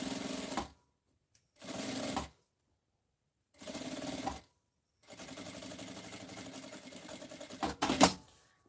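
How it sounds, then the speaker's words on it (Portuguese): A sewing machine stitches lining onto a zipper for a box-style makeup bag in several short bursts of rapid whirring, then one long steady run ending in a few clicks. "Aqui a gente vai costurar o forro nesse zíper"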